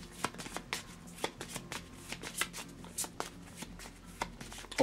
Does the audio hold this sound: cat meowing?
no